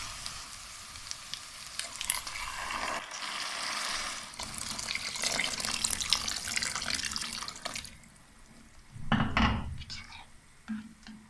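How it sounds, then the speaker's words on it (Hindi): Two cups of water pour and splash into a pot of lightly fried carrot and pea pulao, with a sizzling, bubbling texture, followed by a brief louder gush near the end. "तो अब हम इसमें डाल देते हैं 2 कप पानी।"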